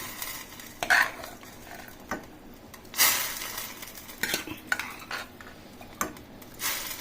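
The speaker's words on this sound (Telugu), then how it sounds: "ఇప్పుడు ఇక ఉడికిన పప్పు ఇందులో వేసుకోవాలండి" Cooked dal is added to tamarind-and-spinach lentils in a pot and stirred with a metal spoon, giving close, irregular scrapes and clanks against the vessel over a soft background sizzle.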